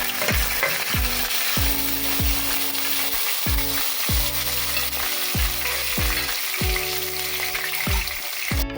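Oil sizzles steadily in a pan while a spoon scrapes and stirs frying spices and curry leaves in repeated strokes, close and fairly loud, with no talking.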